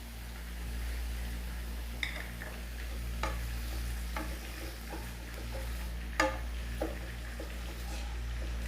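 Egg fried rice is stir-fried in a pan with salt, Chinese salt and vinegar, with a low sizzle over a constant hum and several sharp scraping clicks of a spatula at irregular intervals.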